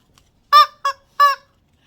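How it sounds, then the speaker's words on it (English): A Dollar Tree chicken sound-effect toy lets out three loud, honking squawks in quick succession, close up with clean silence between them and no talking. "this is another sound effect thing. It's a chicken."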